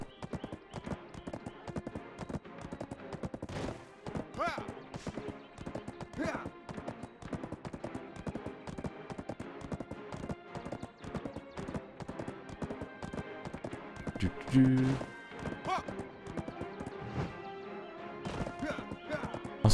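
A horse runs across terrain in the online game Black Desert, its hooves drumming in a fast continuous patter with a louder thud partway through, no voices.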